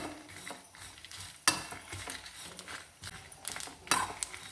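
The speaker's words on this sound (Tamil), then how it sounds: "மசாலா வந்து கருகாமல் வறுக்கணும்." Masala spices frying in a pan over a low flame for a Tamil coconut chicken curry, a faint steady crackle with scraping and stirring clicks of a spoon against the pan, close and quiet.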